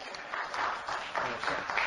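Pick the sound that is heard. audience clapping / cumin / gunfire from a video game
audience clapping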